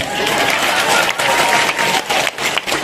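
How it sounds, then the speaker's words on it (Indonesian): An audience at an Islamic religious lecture breaks into steady applause, a dense, loud patter of many hands clapping together for nearly three seconds with brief dips in intensity. "Nah, tepuk tangan, tepuklah dulu saya."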